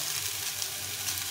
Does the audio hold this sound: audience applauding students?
no